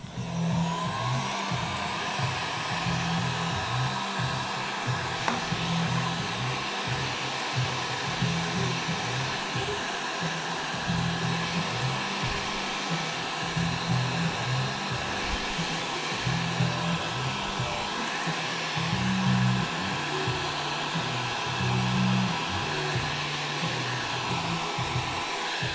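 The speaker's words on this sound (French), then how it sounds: "Hop, un petit coup de chauffe." A heat gun warms thin protective tape on a mountain bike wheel, blowing a loud, steady airy roar with a constant whine that runs unbroken for the whole stretch.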